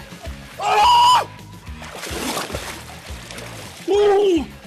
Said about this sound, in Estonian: vapramad on otsustanud end kargesse jõevette kasta.